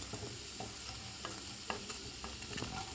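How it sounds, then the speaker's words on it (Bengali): Corn pakoras frying in hot oil, being flipped to cook the other side: a quiet, continuous sizzle with small crackles and a few soft scraping stirs, no voices. "এবার উল্টে দেব অপর সাইডটাও ভেজে নেওয়ার জন্য।"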